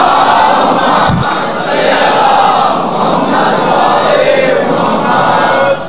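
A large crowd at a Muharram majlis in Lahore recites salawat loudly together in unison, a dense roar of many voices sustained for several seconds before cutting off.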